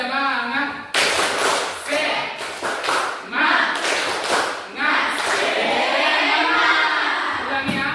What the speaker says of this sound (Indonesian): Ya, untuk tepuk semangat.